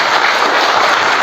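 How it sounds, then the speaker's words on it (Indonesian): A seminar audience applauds after a film is shown, giving a dense, loud burst of many hands clapping at once with no pauses. "Tepuk tangan Bapak Ibu sekalian untuk film ini."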